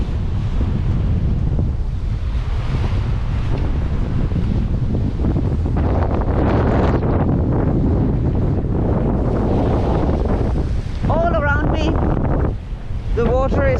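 Strong, constant wind roars and buffets the microphone aboard a sailboat on a lagoon in Brazil, with rushing water beneath and brief whistling tones near the end.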